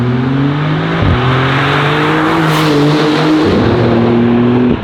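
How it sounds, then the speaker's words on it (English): A Maserati MC20 with a twin-turbo V6 accelerates hard, its loud engine tone climbing through the revs in rising sweeps, with brief dips at two gear shifts and no talk over it. "This car, as we said, fitted with a V6 engine, twin turbo charge."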